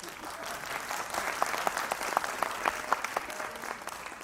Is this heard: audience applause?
yes